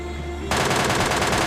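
Automatic gunfire in the PUBG Lite shooter game bursts in suddenly after a quiet moment, a rapid, loud, unbroken stream of shots close by.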